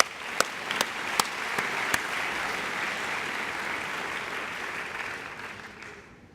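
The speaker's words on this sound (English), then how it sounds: "One more round of applause." Audience applause at a medical school white coat ceremony, a broad, steady roar of many hands clapping in a hall, with a few sharp nearby claps early on, sustained throughout and fading slightly at the close.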